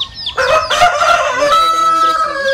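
A rooster crows loudly nearby while hens cluck around it, a busy barnyard chorus with no talking.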